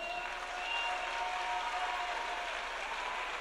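A church congregation applauding and cheering together, a dense sustained wash of clapping at moderate distance with a few whistles and voices blended into the crowd.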